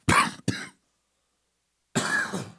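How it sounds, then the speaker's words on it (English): Two quick coughs, then a pause and another harsher cough, close and fairly loud against silence. "Excuse me, a little cough there."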